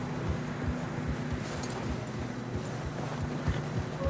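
Horses walk through fresh snow in Red Dead Redemption 2, a steady rhythm of muffled hoof clops over a low ambient background, close by with no voices.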